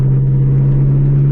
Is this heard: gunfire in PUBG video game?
no